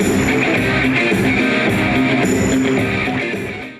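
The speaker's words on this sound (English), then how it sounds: "Give him a round of" A comedy festival audience at a pun championship applauds loudly and steadily, a dense wash of clapping that holds for several seconds before tapering off near the end.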